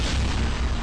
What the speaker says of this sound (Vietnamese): Ôi giời ơi, quả bom phát nổ rồi.